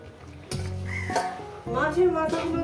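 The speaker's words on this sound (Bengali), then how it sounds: "এরপর দিয়ে দেবো আমি মাছের মাথাগুলো" Fish heads drop into a pan of frying pumpkin and Malabar spinach chorchori, setting off a loud, close sizzle with stirring scrapes and clinks of a utensil against the pan; a voice speaks over it.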